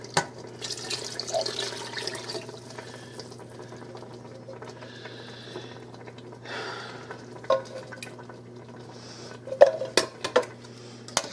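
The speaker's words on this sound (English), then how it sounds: "So I can get both cans cleaned out of the tomatoes that were in it." Water swirls and splashes inside emptied tomato cans as they are rinsed out for an Italian sauce, with light metallic clinks and a few sharper knocks near the end; steady kitchen hum underneath, no talking.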